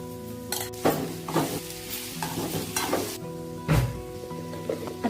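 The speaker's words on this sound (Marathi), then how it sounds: "तूप आता थोडं घेतलंय, त्याच्यात आपण तर खोबरं भाजून घेऊ।" Coconut and halim seeds roasting in ghee in a pan, stirred with a spoon: a steady sizzle with repeated scraping strokes and a few louder clinks against the pan, close up and without talk.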